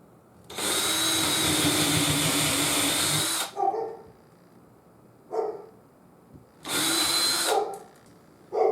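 A power drill whirs loudly for about three seconds drilling into a ceiling for wall anchors, stops, then a short second burst follows; a few faint knocks and clatters in the pauses.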